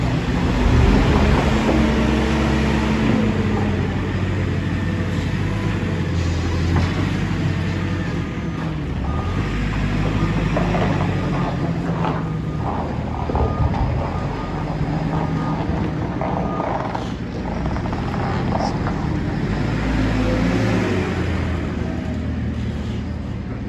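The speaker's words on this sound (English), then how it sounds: "So we're just loading a lorry here." A lorry being loaded with wood chip at an anaerobic digestion plant, a continuous heavy machinery drone with scraping and rumbling of material, steady and fairly loud throughout.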